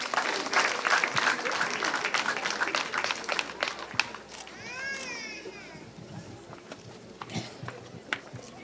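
Guests at a civil wedding ceremony for fourteen newlywed couples in Rwanda applauding, brisk crowd clapping strongest at first then thinning, with chatter, a voice and scattered claps later.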